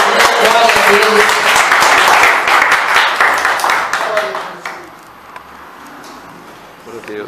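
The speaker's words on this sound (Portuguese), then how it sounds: "Palmas que glorificam o nosso Senhor." A church congregation claps together in praise during a worship service, dense rhythmic clapping that fades out over several seconds, with voices and murmur underneath.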